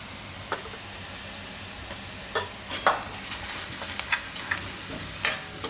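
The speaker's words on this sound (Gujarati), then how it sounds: "તેલમાં થોડીક હળદર નાખી દેવું. થોડુંક ધાણા જીરું નાખી દેવું." Turmeric and coriander-cumin powder sizzle steadily in hot oil for a Gujarati makkai aloo paratha filling, a close, continuous frying hiss broken by a few sharp pops and stirring scrapes.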